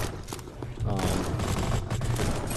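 Rapid gunfire from the action video game To Hell With Hell, a dense continuous burst of shots over booming game effects and music, loud and close throughout.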